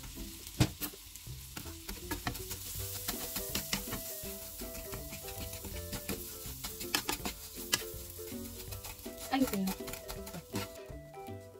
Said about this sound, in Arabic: بعدين هنيجي في طاسة أحط الزبدة وعليها الكنافة، أكسرها شوية وبعدين أحطها